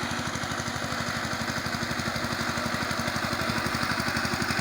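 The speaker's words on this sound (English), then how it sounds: "Tractor berat gini kah?" A tractor engine runs steadily while ploughing a field, its fast, even chugging pulse loud and close throughout with no break.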